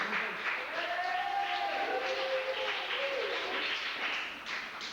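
Audience at a 1998 holiday camp evening in Monestié applauds the animation team, a sustained patter of clapping with a voice briefly heard over it.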